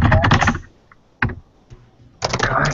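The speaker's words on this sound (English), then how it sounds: "We're just slamming the keyboards." Keys on computer keyboards are slammed hard in loud, rapid clattering bursts, with a few isolated heavy keystrokes in between, close and forceful.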